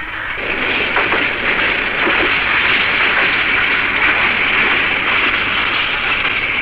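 A passing train heard as a loud, steady broadband rumble and rush that holds constant throughout, with no voices over it.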